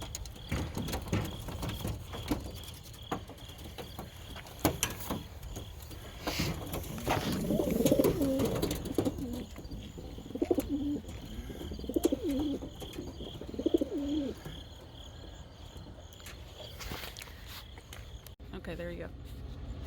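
Racing pigeons held in a crate coo repeatedly at close range, soft rolling calls rising and falling in bursts, while someone talks over them and occasional thumps and rustles sound nearby.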